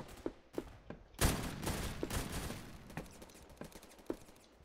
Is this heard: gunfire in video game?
yes